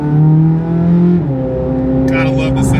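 A warmed-up twin-turbo GM V8 supercar engine revs loud and close, its deep harmonic rumble holding steady before dropping in pitch, with a brighter burst of mechanical noise near the end.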